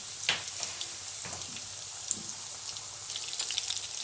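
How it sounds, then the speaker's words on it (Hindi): Popcorn chicken frying in oil on medium-low heat, a steady soft sizzle with faint crackles and pops throughout, with no talk. "मीडियम लो हीट पे हम जो है वो इसे फ्राई कर रहे हैं"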